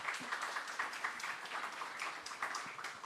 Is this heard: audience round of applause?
yes